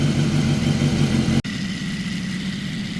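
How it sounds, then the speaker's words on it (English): A motorcycle engine runs at a steady idle, close and fairly loud, with one brief dropout in the middle, on a bike being checked for a manual cam chain tensioner leak. "I'm turning on the bike."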